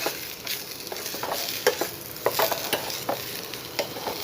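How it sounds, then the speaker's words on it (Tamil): Vegetables with coriander leaves sauté in a pan for a restaurant-style veg roll, giving a steady close sizzle broken by repeated scraping stirs of a spoon, with no voice. "நல்லா வதக்கிக்கலாம்."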